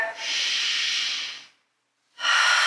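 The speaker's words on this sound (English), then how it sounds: "Deep inhale, deep exhale. One more deep breath." Deep yoga breathing, a long, loud, airy exhale through the nose that lasts over a second, then a pause of silence and the next breath starting, close to the microphone.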